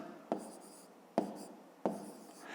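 A pen writes numbers by hand on paper while working a column multiplication problem in a fifth-grade maths lesson; three short, distinct scratchy strokes land about a second apart, close and quiet, with no talking.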